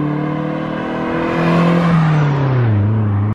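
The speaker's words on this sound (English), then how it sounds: "what I'm actually showing you guys is how to rev match" A manual car engine revs up in a rising blip to rev-match a downshift, holding near and loud, then the pitch sweeps down as the revs fall before the sound cuts off abruptly.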